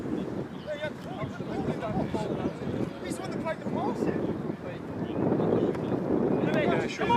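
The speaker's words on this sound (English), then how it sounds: "it's just so bloody windy up here" Strong wind buffets the microphone in steady low rumbling gusts at a hillside Worthing United versus Midhurst & Easebourne football match, with a commentator talking throughout.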